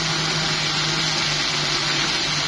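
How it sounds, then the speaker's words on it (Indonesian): A steady, loud whirring roar from a kitchen blender pureeing chili with shallots and tomato, a constant motor drone with a low hum running unbroken throughout. "Kemudian cabenya kita blender"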